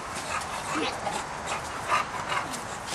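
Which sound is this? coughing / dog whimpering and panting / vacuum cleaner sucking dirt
dog whimpering and panting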